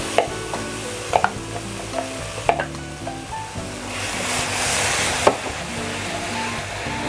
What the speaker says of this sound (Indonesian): Ini bumbu yang sudah dihaluskan tadi saya masukkan.